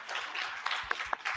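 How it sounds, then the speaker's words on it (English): An audience at an arts and activism challenge launch event applauds a group of rappers. The applause is soft and fairly distant, with a few sharper claps standing out. "A round of applause for them"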